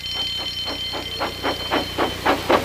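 An alarm rings out for a Thomas the Tank Engine breakdown train, a rhythmic series of about nine evenly spaced bell-like pulses over a steady high tone, growing slightly louder toward the end.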